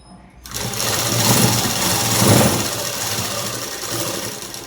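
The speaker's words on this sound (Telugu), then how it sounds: "ఇలా కుట్టు వేసేసుకోండి." Sewing machine stitching cloth for a collared dress, starting abruptly and running as a close, steady motorized whir with rapid needle chatter for several seconds.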